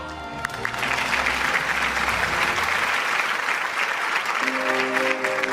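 An audience at an annual award show applauds to welcome a singer, a full, steady round of clapping that rises after a brief musical tone and carries on with sustained instrument notes returning underneath.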